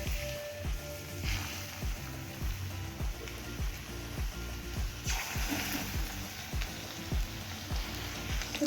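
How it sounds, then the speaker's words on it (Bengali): Chicken pakoras fry in hot mustard oil, a soft, steady sizzle with a repeating pattern of faint crackles and pops heard close but quiet, no talking. "আমার সর্ষের তেল দিয়ে ভাজছি"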